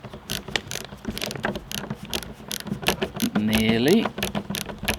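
Small screws being driven back into the number plate light on a Ford Focus Mk2 tailgate, close ratcheting clicks and rapid metallic ticks throughout with a short whirring squeak near the end, a voice speaking briefly over it.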